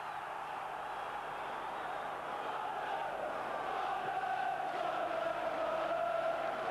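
A football crowd at a 1992 Division Two match between Sunderland and Millwall keeps up a steady, distant roar that swells slightly toward the end, with no single voice standing out.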